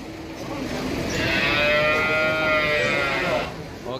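Calves at a cattle market let out a loud, drawn-out moo close by, rising and holding for a couple of seconds over a busy background of market noise.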